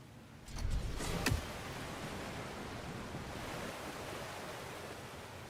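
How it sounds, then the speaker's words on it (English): Steady broadband rush of water flowing along a channel in God of War Ragnarok, with a few brief splashy bursts near the start before settling into a constant, even wash. "Sounds like you got the water moving along"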